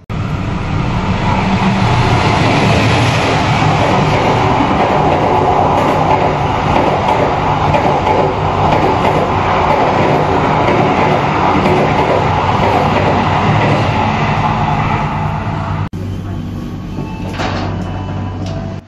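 Argo Cheribon passenger train departing Jatibarang station in Indonesia, a loud, steady rumble of wheels and carriages rolling on rails that continues throughout, with a brief shift in tone near the end.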